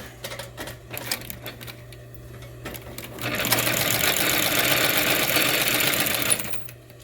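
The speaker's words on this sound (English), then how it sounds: "just going to give this a quick final sew. I'm going to lock down the edge here." An electric sewing machine stitches along the edge of a slim leather pouch, locking it down: a steady, loud, fast mechanical whir that runs for about three seconds after scattered quieter clicks and handling.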